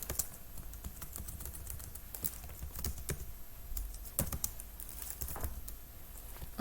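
Someone types code on a computer keyboard, with close, steady, irregular key clicks and taps throughout and no speech.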